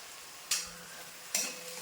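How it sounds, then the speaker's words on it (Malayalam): Onions being stirred in hot oil for a chicken dish, with a steady soft sizzle and two distinct scraping stirs about a second apart, close and fairly quiet, no voices. "അപ്പോൾ നമുക്ക് ഇടയ്ക്കിടയ്ക്ക് ഇങ്ങനെ ഇളക്കി കൊടുത്തുകൊണ്ട് നമ്മളിത് മൂപ്പിച്ചെടുക്കാം."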